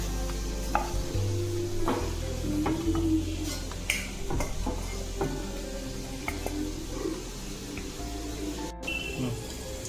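Jute leaves cook in a pan in a traditional Bengali kitchen, with continuous close sizzling and frying, irregular scrapes and knocks of a utensil stirring against the pan, and occasional metallic clinks.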